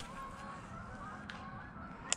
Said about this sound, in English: the ducks and the geese are flying